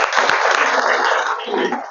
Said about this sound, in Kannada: ಜೋರಾಗಿ ಚಪ್ಪಾಳೆ ಮುಖಾಂತರ ಅವ್ರಿಗೆ ಒಂದು ಥ್ಯಾಂಕ್ಸ್ ಹೇಳ್ಬೇಕು